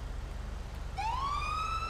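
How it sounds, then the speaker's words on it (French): A Los Angeles-style police car siren in GTA V starts partway through with a rising wail that climbs in pitch, over a steady low engine rumble. "Ça, c'est les sirènes originales."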